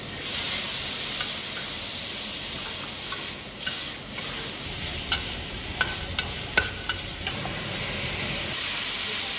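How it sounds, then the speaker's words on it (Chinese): Stir-frying in fresh flaxseed oil in a rural Gansu kitchen: a steady sizzling hiss with a few scrapes of the spatula against the wok, close and moderately loud. "最后一个菜炒一下肉"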